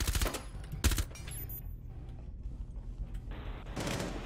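Gunfire in the video game Rainbow Six Siege rings out in sharp bursts at the start and near the end, loud and close, with quieter mechanical clicks and rattles between shots.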